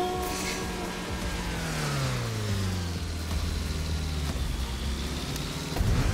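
A car engine in a Roblox Driving Simulator game hums steadily with a low, continuous drone whose pitch falls and then levels off, sitting close and moderately loud throughout.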